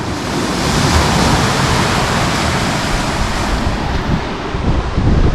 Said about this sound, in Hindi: वहाँ की वेव्स का आवाज़ सुनना ही इतना सुकून एंड रिलैक्सिंग होता है